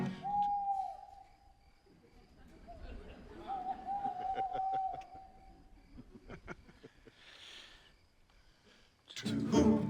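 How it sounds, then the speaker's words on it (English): An owl's hoot, voiced in a live stage performance of Shakespeare's Love's Labour's Lost, comes as sustained wavering tones twice in the first half, with crowd murmur and other voices around it and a loud burst at the end. "Then nightly sings the staring owl"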